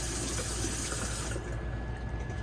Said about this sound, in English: Sink actually has pretty good pressure.